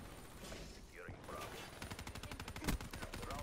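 Rapid automatic gunfire in the video game Black Ops 3, a fast, evenly spaced burst of shots that fills the second half, over game mechanism noise and a faint background voice.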